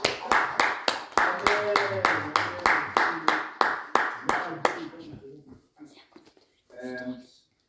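A church congregation claps in a steady, even rhythm for about five seconds after a hymn, each clap sharp and close. A voice then speaks briefly and the clapping stops.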